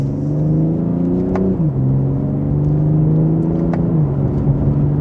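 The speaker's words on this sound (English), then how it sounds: "that's just a minor acceleration for this new vehicle" A 2026 BMW M240i pulls hard in second gear in Sport Plus mode, its engine note climbing steadily from up close with two brief dips in pitch. No talking is heard over it.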